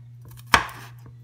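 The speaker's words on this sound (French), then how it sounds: "Kounya mwen ap koupe piman douz la." A single sharp knife chop through bell pepper on a cutting board, one crisp close thud with faint background hum.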